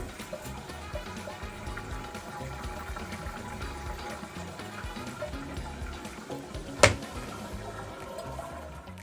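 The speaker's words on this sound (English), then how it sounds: "My toilet will not stop making noise." Steady watery hiss and gurgle of a toilet tank running on by itself and refilling, continuous throughout, with one brief sharp knock near the end.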